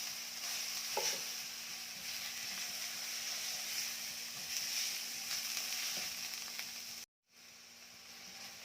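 Chicken pieces for shawarma frying in a pan, giving a steady broadband sizzle with occasional stirring scrapes throughout, briefly cutting out near the end before resuming.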